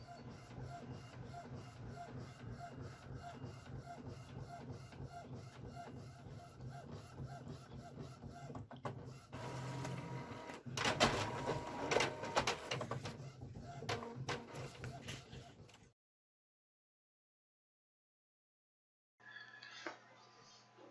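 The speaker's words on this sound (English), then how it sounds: "While we're in printing mode, we print all kinds of different labels and so on for the business." A printer runs off leaflets and labels for a small business, with rapid mechanical shuffling and clicking from the paper feed, busier and louder near the middle, then a pause of silence before a short burst resumes.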